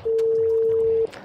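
A telephone sounds one steady, clear dial tone during a call, lasting about a second before it cuts off, followed by faint background noise.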